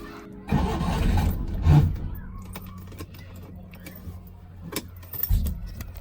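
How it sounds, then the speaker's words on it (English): A Citroen 2CV engine cranks for about a second and catches, then settles into a quieter, uneven idle with some faint clatter. "So let's start the engine up and see how she runs."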